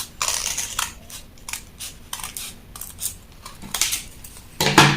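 Scissors snipping fabric along a curved line while a shirt sleeve pattern is cut out, a series of close, crisp crunching cuts in bursts with short pauses, louder toward the end.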